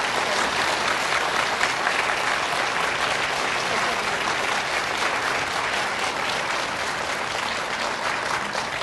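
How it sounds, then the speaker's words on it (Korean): Warm, sustained applause from a church congregation for a guest pastor during a women's mission gathering, dense and steady throughout at close range, with no voices rising above it. "주강사 목사님께 우리 뜨거운 박수 좀 부탁드리겠습니다."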